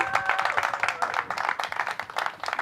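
Scattered applause at a St. Baldrick's Brave the Shave virtual fundraising event, a thin patter of claps from a small group for top-raising shavees, steady but modest in level with a faint tonal hum behind.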